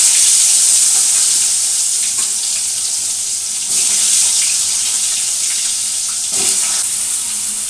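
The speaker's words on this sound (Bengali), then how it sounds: "এখন ভেজে নিচ্ছি পটলগুলো।" Pointed gourd slices frying in hot oil give off a steady, close, bright hiss that runs unbroken, with small swells and crackles now and then and no voices.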